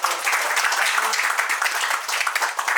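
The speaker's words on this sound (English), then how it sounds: "So give yourselves a round of applause." An audience at a close-up magic show claps and applauds steadily throughout, a dense, even wash of many hands.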